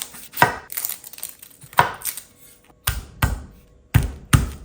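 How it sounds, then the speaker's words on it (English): A knife chops red onion, fat garlic cloves and coriander on a board, with sharp, close thuds coming in uneven single strokes and short bursts. "I'm just going to finely chop all of this with a handful of coriander as well"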